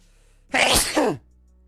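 A single sneeze from a character in the visual novel game The Fruit of Grisaia, a short sharp burst heard close and alone against a quiet background.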